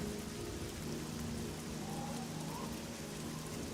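Steady, dense rainfall in the Oblivion video game, a constant hiss with no breaks, alone and fairly loud.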